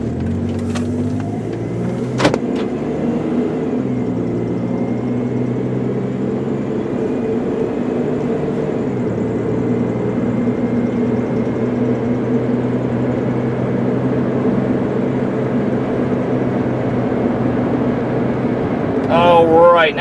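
A 1999 Plymouth Voyager minivan is driven on the road, giving a steady engine drone and road rumble that lasts throughout, with a brief knock near the start and a faint squeak at the end.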